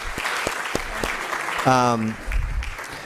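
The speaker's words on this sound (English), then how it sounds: "Can I please get a round of applause?" Applause at a community meeting on reimagining Long Reach Village Center: a small group gives scattered, separate claps rather than a full ovation, with a brief voice rising over them midway.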